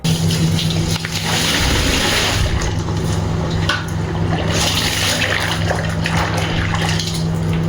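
Tap water gushes steadily into a bucket of clothes being soaked, a continuous close rushing and splashing that holds an even level throughout, with no one talking.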